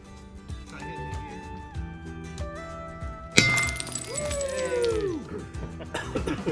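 A glass bottle shatters against a sailboat's hull at a boat naming ceremony, one sharp crash midway through, with a ringing, tinkling aftermath over background chatter and tonal noise.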